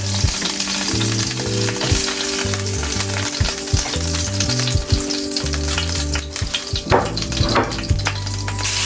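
Salmon pieces frying in a pot give a steady, loud sizzle with occasional clinks and scrapes of a spatula, and a low humming tone runs underneath.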